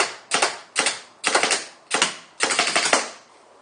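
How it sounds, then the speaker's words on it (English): Paintballs from a Mini Pup marker strike a ball catcher in five quick bursts, each a rattling, clattering volley of rapid impacts. Short silences separate the bursts, close up and with no talking. "Most of the noise is the actual ball going in the catcher"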